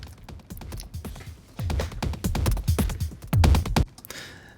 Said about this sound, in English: we have a break beat going on here. That's a loop from the DM307 from Heaviosity.